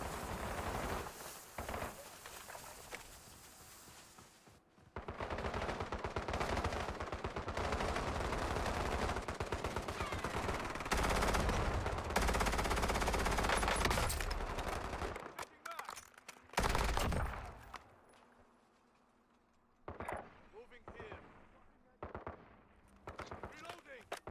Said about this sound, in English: Guy on the hill shooting at us too.